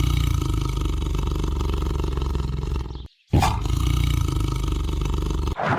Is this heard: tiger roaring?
yes